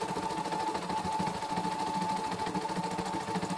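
An embroidery machine, a CNY E960, stitches continuously at close range, with a steady rapid needle patter riding on a droning motor hum, unbroken and even throughout, in a workshop in Tambak, Banyumas.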